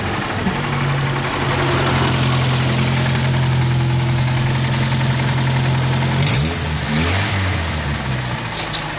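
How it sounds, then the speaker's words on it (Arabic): A powerful car engine runs steadily at idle, with a low, even hum and some knocking texture, then briefly revs and shifts pitch near the end, heard alone and close. "صوت الموتور القوي"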